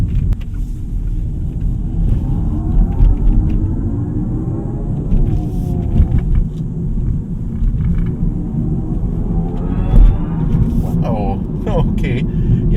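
A 2025 MINI Cooper SE electric car on the move plays its artificial driving sound, a synthetic tone that rises and sweeps over a low road rumble inside the cabin, with a voice speaking at times.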